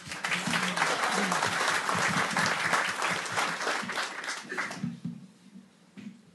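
Applause from attendees at a charity association's annual general meeting, dense clapping from a room of people with some voices mixed in, fading out after about five seconds into quiet room sound.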